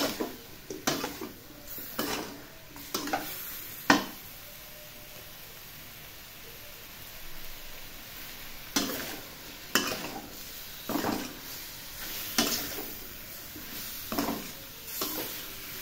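Squid frying in a pan, a steady soft sizzle broken by repeated clattering scrapes and knocks of a utensil stirring against the pan, with no talk.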